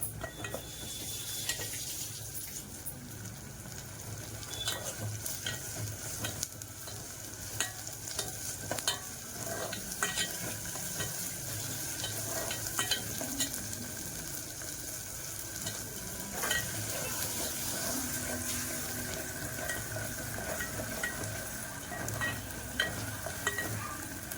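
Ginger garlic paste frying and sizzling in a pan, stirred steadily with a utensil that scrapes and clinks against the metal, a continuous close sizzle running throughout with no talk.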